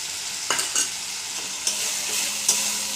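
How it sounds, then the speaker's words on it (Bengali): Spices for jackfruit kofta curry, fresh masala mixed with fried spice paste, sizzle loudly in a pan while a spatula scrapes and taps in several distinct strokes, no voices. "মশলাগুলো সব একসঙ্গে ভালো করে কষে নিচ্ছি।"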